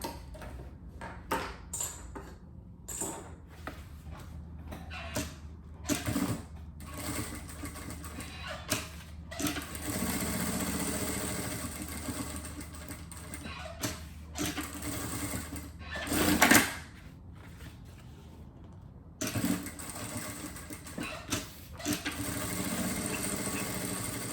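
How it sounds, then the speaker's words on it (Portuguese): Sewing machine stitching seams along both sides of a double cosmetic case, running in repeated close bursts with short pauses between passes, no talk. "Agora sim, a gente vai passar uma costura aqui nas duas laterais."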